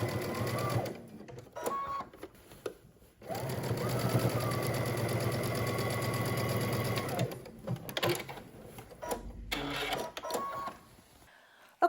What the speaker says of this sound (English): now we're gonna head to the sewing machine and we're just gonna stitch this in place